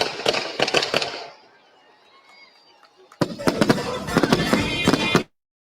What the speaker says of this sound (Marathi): 61व्या वाढदिवसाची ही 61 तोफांची सलामी आता आपण बघूया